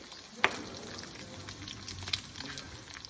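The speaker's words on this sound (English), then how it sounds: "And we'll fry up some bacon to put on the burgers." Bacon strips frying in a pan for burgers, a soft, steady sizzle with a couple of brief clinks, fairly quiet and close, with no voices.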